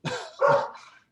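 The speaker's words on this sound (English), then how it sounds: "Sorry about my dog, somebody must be at my door." A dog barks at the door during an online committee meeting, giving two or three loud, close barks in quick succession with no talk over them.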